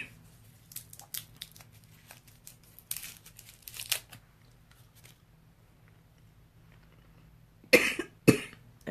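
A cough drop wrapper crinkles and tears in two short, sharp bursts near the end, after a quieter stretch with a few faint rustles and small coughs.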